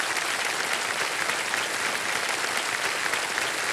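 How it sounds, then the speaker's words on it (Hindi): Studio audience on the KBC game show bursts into steady, dense applause that fills the clip, loud and continuous with no talking over it. "एक बार इनके लिए भी ताली बज जाए।"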